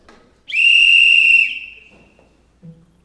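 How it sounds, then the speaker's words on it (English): A single sharp whistle blast lasting about a second, blown to call a group to silence, loud and close, followed by faint room noise and a brief low voice at the end. "When you hear this whistle, it means to shut up."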